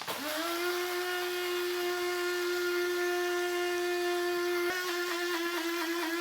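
An electric spice grinder whirs steadily as it grinds cumin seed, a loud, close, high motor whine held for about six seconds with a brief dip near the end.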